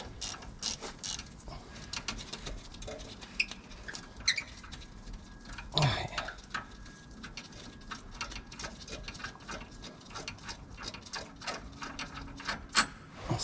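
A ratchet undoes the rear wheel bolts on a 2011 Mercedes Luton van, giving irregular bursts of quick, close clicking over a quiet workshop background.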